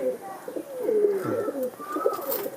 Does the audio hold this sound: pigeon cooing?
yes